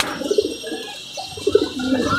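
A pigeon coos nearby in two short bursts of low rolling notes separated by a pause, with a faint chirp and steady background hiss between them.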